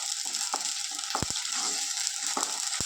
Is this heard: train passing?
no